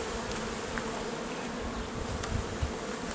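Honey bees drone steadily at the entrance of a beehive as foragers return with pollen, a dense close buzzing that holds at an even level throughout with no voices.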